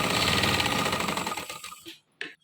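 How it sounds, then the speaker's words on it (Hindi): Sewing machine stitching the belt of a farshi shalwar, a fast steady mechanical whir close by that slows and stops after about two seconds, followed by a short clack. "तो अब बाकी बेल्ट की सिलाई लगाऊंगी"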